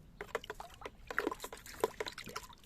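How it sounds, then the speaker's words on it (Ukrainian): Baking soda stirred into a bucket of water with a measuring scoop for treating cucumber pests, giving soft irregular sloshing, dribbling and scraping sounds, close and quiet. "тут у нас відро з мірничком, розколочуємо соду"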